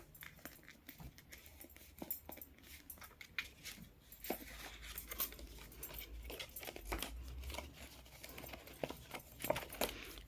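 Sheets of paper being folded and crinkled by hand while making a one-page pocket wraparound, with soft irregular rustles, creases and taps close by at low volume, no talking.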